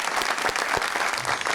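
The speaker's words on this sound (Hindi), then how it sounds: "तालियां" Audience applause at a television talk show, a steady wash of clapping filling the whole short stretch with a few sharper individual claps standing out, no voices over it.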